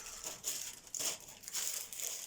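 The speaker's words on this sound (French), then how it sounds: "je vais déballer à côté" Crinkly plastic packaging rustles in several quick bursts as a parcel of craft supplies is unwrapped up close, with no one speaking.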